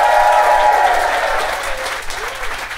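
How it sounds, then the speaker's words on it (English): Audience at a live comedy podcast recording breaks into loud, dense applause and cheering that gradually tapers off over a few seconds. "Give me a round of applause"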